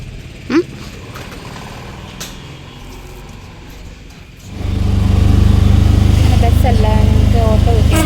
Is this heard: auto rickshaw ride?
yes